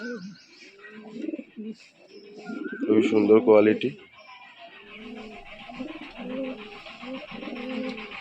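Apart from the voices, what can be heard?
pigeons cooing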